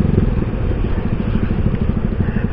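A motorcycle with an aftermarket knalpot exhaust runs with its valve closed, giving a close, steady, throaty idle with a rapid even pulse and no talk over it.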